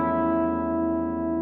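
A single sustained electric guitar chord, a suspenseful theme ending, rings out alone with effects and slowly decays.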